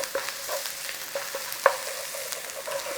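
Beef mince fries in a pan with garlic, a soft steady sizzle broken by scraping stirs and one sharper clack of the utensil against the pan.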